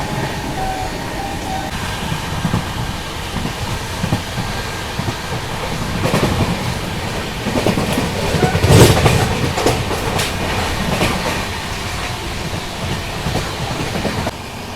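Nonstop special passenger train on the Jaipur to Mumbai run at speed, with a steady loud rumble and wheel clatter throughout and a sharper burst of rattling near the middle.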